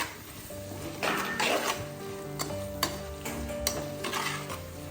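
Soft sizzling of ginger garlic paste in a pan with a few scraping stirs and light clinks of a utensil, close by and fairly quiet.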